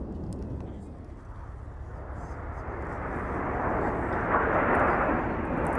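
Red Arrows jets fly in formation at an air show, a broad jet roar that swells steadily louder as they approach.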